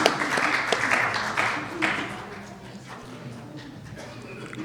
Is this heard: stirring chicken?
no